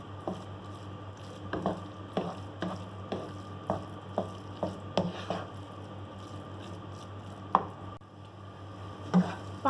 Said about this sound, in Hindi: घी में आलू डाल देंगे, मिक्स करेंगे, इसको थोड़ा सा फ्राई करेंगे।